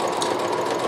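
A Brother CP7500 computerized sewing machine runs below full speed in a short, steady mechanical whirr with a fast, even stitching chatter, moderately loud and alone.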